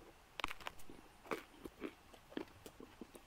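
Crusty bread eaten with a piece of Emmental cheese, heard as close, crisp crunching bites and chewing in several uneven bursts over a quiet background, with no talking.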